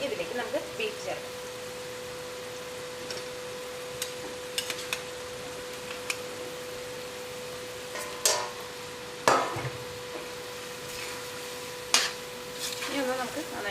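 Beef pieces go into boiling curry gravy in a Kerala-style beef curry and are stirred, with faint scraping and bubbling under a steady background hum and a few sharper clinks.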